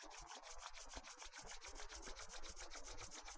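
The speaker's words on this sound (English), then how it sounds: "please bring your hands together in front of the chest and rub your palms vigorously" Hands rub vigorously together palm to palm during a hatha yoga session, a fast steady swishing friction with rhythmic strokes, close and soft, with nobody talking.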